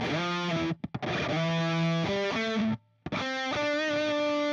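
Distorted electric guitar played through a TONEX One with plate reverb, sustained chords and single notes ringing out with smooth, dense tails; two short pauses break the phrases, and no one speaks.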